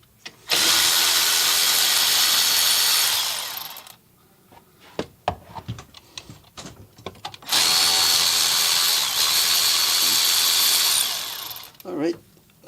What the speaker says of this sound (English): So we are using my power tools.